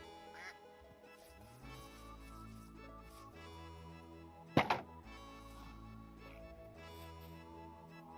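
A sharp burst of duck quacking in modded Minecraft, two or three quick quacks, rising over a steady background of game music.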